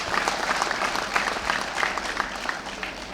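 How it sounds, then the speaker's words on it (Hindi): Audience applause for children at a launch event, a dense, even wash of clapping from a crowd that holds steady throughout. "बच्चों के लिए हमें ताली बजानी चाहिए"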